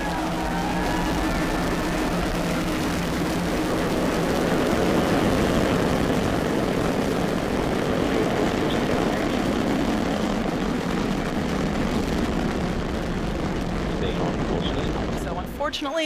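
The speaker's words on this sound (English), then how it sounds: "Liftoff of the Falcon 9." SpaceX Falcon 9 rocket lifting off, a loud, continuous, broadband rumbling roar that holds steady for the full length, with faint voices underneath.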